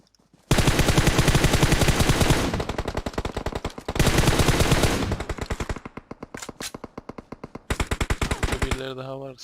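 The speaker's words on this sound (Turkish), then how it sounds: "Şuradan bir daha sıkıyor." Rapid automatic gunfire in PUBG Mobile, loud bursts of closely spaced shots separated by short pauses, ending in a few slower single shots.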